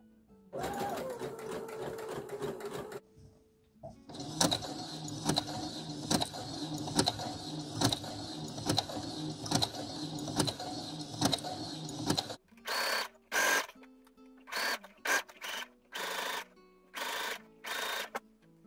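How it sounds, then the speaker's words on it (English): A sewing machine set to its widest, longest zigzag stitches over a cord while gathering fabric. It runs in one long steady burst, then in short stop-start runs, close and clear with no talk. "I've got my machine on a zigzag, the largest width and the largest length, and I'm going to zigzag over"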